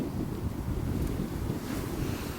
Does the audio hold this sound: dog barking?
no